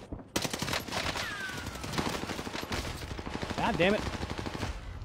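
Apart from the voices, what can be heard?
gunfire in the video game Call of Duty Warzone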